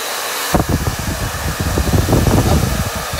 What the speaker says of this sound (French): Ouais, alors peut-être avec le sèche-cheveux. Mais en le mettant froid, d'accord?